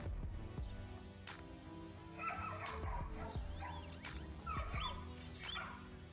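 A small dog yips and barks repeatedly at a distance, with whimpering cries between barks over a low steady background hum.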